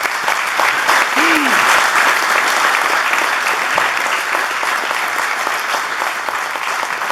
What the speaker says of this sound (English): How about one more round of applause for Sharon, for police